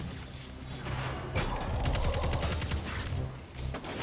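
Auto rifle fire in Destiny 2 during a Lost Sector fight: rapid, dense bursts of shots rattle up loudly in the middle, over constant game ambience and effects, with no talking.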